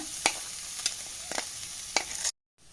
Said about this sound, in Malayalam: നമുക്ക് നല്ലപോലെ ഇളക്കി യോജിപ്പിച്ച് കൊടുക്കാം ഇതിൻ്റെ കളറൊക്കെ ഒന്ന് മാറണ വരെ നമുക്ക് വെയിറ്റ് ചെയ്യാം ലോ ഫ്ലെയിമിൽ വെച്ചിട്ട്